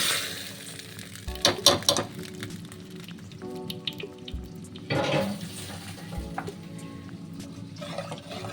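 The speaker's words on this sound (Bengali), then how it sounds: "এবারে এইটাকে সাম্বারের মধ্যে শুধু ঢেলে দেবো" A curry leaf tempering hisses and sizzles as it is poured into sambar, with two sharp bursts of crackling spatter followed by a gentler ongoing simmer and occasional clinks of a utensil.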